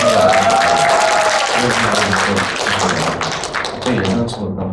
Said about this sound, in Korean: 예상치 못한 박수를 하셨어요